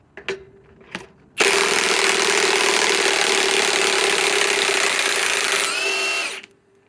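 A Ridgid high-torque drill is used to remove legs. After a couple of short taps, it runs loud and continuous at high speed for about five seconds with a steady whine, then winds down and stops.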